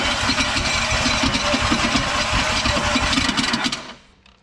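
Nissan K11 Micra engine cranked over with the rocker cover off, a rapid rhythmic chugging that holds steady for about four seconds and then cuts off abruptly.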